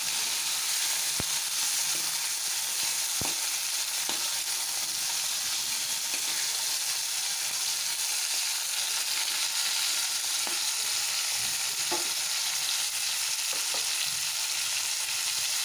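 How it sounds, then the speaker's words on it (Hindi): Tomatoes frying in a pan for tomato chutney, a steady broadband sizzle running throughout with a few soft clicks of stirring, close up and with no talking. "किसी समय टमाटो को भल भाव भाजी देवे।"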